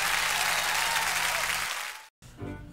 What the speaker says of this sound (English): Everybody, I think old Buzz deserves a round of applause for this.